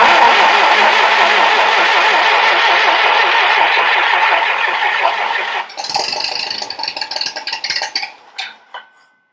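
A Ferguson TED20 tractor engine cranks and catches, running loud and close with a rough, pulsing rhythm, then sputters and dies away in uneven bursts.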